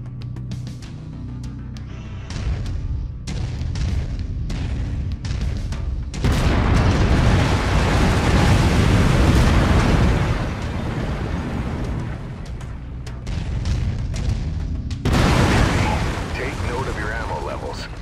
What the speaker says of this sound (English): I've mapped the autocannon to Weapon Group 1. You're free to fire whenever you're ready.